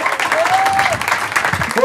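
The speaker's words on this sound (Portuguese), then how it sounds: "Vai, essa merece um aplauso." Stand-up comedy audience applauding in a club, a brief burst of clapping mixed with crowd noise and a voice cutting through over it.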